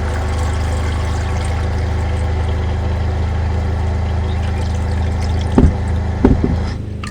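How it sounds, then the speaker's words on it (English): Tap water runs steadily into a Dutch oven to cover cut potatoes for mashing, a continuous filling rush with a couple of louder splashes and clunks near the end. "So I'm going to cover the potatoes with water."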